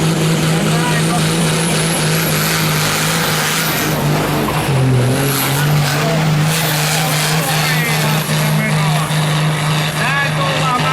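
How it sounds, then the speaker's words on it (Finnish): A hill-climb race car at Kasukkala in 2016 roars continuously as it revs up the slope, its engine note rising and falling loud and close throughout, with a commentator talking over it. "Ja sieltä ruvetaan painelemaan kierroksia ylös."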